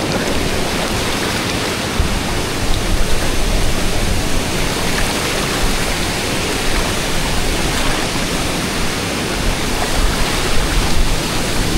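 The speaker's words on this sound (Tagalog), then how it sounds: "Lakas ng currents eh." River water rushes steadily below Pinamun-an Falls in Nagcarlan, Laguna, a loud, close, unbroken roar of strong current with no voices heard.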